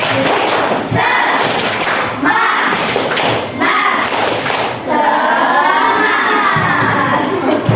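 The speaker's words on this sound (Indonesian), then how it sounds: "Ayo, tepuk semangat." A crowd of schoolchildren shouting and clapping together in a loud, rhythmic spirit-clap chant, with bursts of group cheering between repeated beats.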